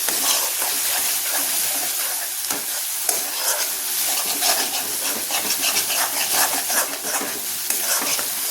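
Garam masala fries in a pan for bharangi leaf sabzi, stirred constantly with a spoon scraping and clattering close up over a steady sizzle.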